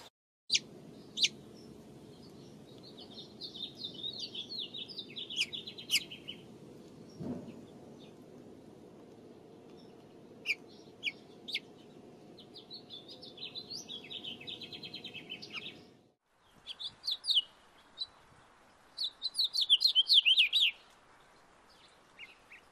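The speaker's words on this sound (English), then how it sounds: "For the house finch." House finch calls and warbling song come in several bursts of bright chirps and twittering phrases, fairly close and clear, over a low steady hum that cuts out partway through.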